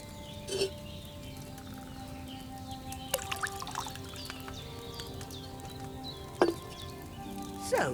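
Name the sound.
pouring wine into a cauldron, Kingdom Come: Deliverance II video game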